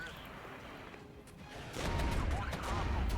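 Gunfire and blasts in the armored-combat video game Regiments form a dense, rumbling roar of overlapping shots and explosions that swells noticeably louder and heavier midway through.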